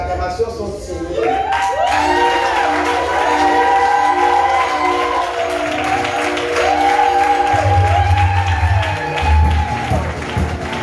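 A church congregation at a divine healing worship service applauds and cheers loudly for about ten seconds, steady clapping under overlapping shouts and whoops, with a voice calling out over it.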